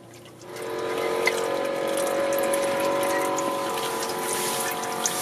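Oil drains steadily from the filter housing of a VW Passat VR6, a continuous close trickling pour that swells in after a quiet start and runs on with faint clicks.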